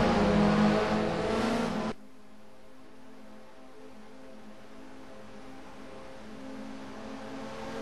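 Sim racing game race cars accelerating at a superspeedway race start, a loud revving burst for about two seconds that cuts off into a quieter steady engine drone.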